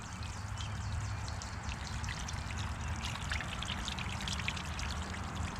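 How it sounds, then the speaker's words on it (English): Running water pours and splashes steadily while a freshly caught trout is rinsed clean, a continuous close trickling wash with no talk. "Keep washing it until everything is clean."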